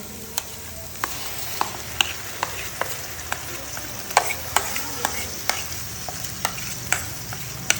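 A spice paste of mustard, poppy seed, fennel and cashew is added to a frying pan for prawn malai curry, with a steady oil sizzle broken by regular sharp clicks of a spoon stirring against the pan, close and with no talk.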